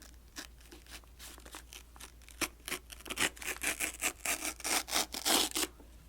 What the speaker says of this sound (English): pull this and kind of unwrap it and unveil it in this way